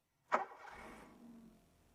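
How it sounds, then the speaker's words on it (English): A cold car with a 1.4 TU engine running on E85 ethanol fires up in one quick crank, then settles into a steady idle, close and alone. "The vehicle is completely cold, and I'm starting it for you."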